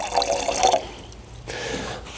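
Water filling a pot for boiling pasta, a close splashing and trickling pour that runs strongly at first, then drops to a softer dribble before picking up again.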